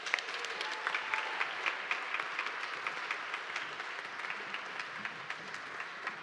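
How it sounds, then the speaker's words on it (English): An audience at a Broadway Cafe 2023 choir show claps steadily for the director, a sustained wash of many hands at an even pace, rather faint and distant, with no voices on top. "So please give a big round of applause for him."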